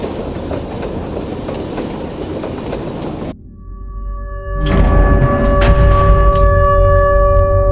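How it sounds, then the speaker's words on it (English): A train running in the video game Garten of Banban 8, loud rumbling wheels and rhythmic clatter that cut off briefly, then return as heavy low rumble with sustained metallic squealing tones and clanks, no voices. "Why'd the train stop?"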